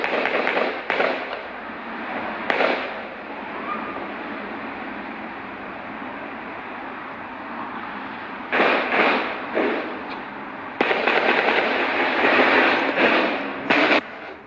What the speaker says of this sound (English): Audio has emerged of the moment he opened fire.